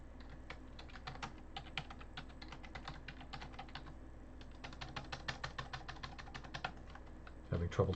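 Rapid, light typing clatters on a computer keyboard, with steady key taps throughout and a short burst of louder handling at the end, close and fairly quiet.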